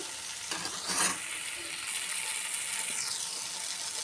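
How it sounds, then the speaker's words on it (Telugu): Brinjal fry with finely chopped coriander stalks is stirred in a pan, a soft steady sizzle under a short scraping burst from the spoon near the start. "కొన్ని సన్నగా కట్ చేసిన కొత్తిమీర కాడలు ఒకసారి మంచిగా కలిపేసుకోవాలి"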